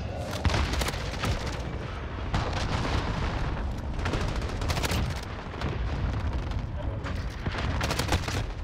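Dense, continuous gunfire in a Call of Duty Modern Warfare match, with rapid automatic bursts and booming shots layered over each other, loud and close throughout with no letup.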